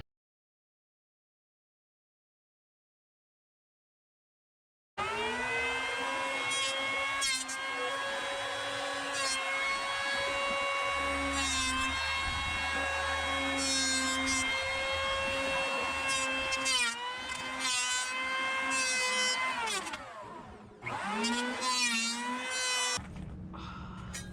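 Power planer shaving wood on the cockpit of a wooden Tahiti gaff cutter boat, a loud sustained whining motor with several short cuts and pauses, heard up close with no talk.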